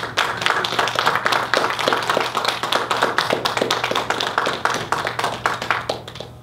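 An audience at a graduation ceremony claps steadily in dense, continuous applause that holds for several seconds, then begins to thin out at the end.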